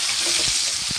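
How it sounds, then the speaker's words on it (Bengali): Onion, ginger, chili and garlic fry in a pan with a steady broadband sizzle, two soft dull bumps of stirring rising briefly beneath the constant hiss. "এবার আমরা পেঁয়াজ, আদা, লঙ্কা, রসুন এগুলোকে আমরা ফ্রাই করে নেব।"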